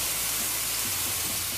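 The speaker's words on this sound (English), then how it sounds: "You want the pan to be hot enough to hear that sizzle" Meat searing in a hot pan gives off a brief, steady, close-up sizzle, an even hiss with no pauses and no voices.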